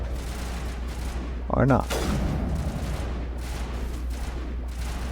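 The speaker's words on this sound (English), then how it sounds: "Who are you guys shooting at?" Continuous gunfire and crossfire in the video game Mass Effect, a steady dense battle roar with a brief louder burst, running under a voice speaking briefly.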